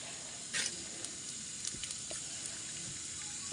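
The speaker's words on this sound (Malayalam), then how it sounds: "ഞാൻ കുറച്ച് ജീരകം ഇട്ട് കൊടുക്കുന്നുണ്ട്." Cumin seeds sizzle in hot coconut oil in a black clay pot, a steady, fairly quiet hiss with a brief louder crackle near the start and a few faint pops, no voices.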